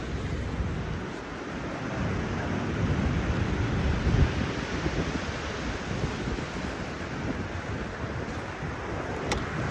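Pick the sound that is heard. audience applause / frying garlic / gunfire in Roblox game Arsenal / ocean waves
ocean waves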